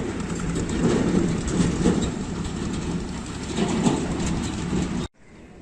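A Pakistan Railways Awam Express passenger train rumbles steadily past at close range at Hasan Abdal railway station, wheels clattering rhythmically on the rails, before the sound cuts off abruptly.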